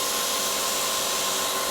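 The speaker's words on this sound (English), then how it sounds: "Don't want to go too fast when drilling steel." A Tormach PCNC 1100 CNC mill drilling steel gives a continuous, loud, steady high whine and grinding hiss, close and unbroken for the short span.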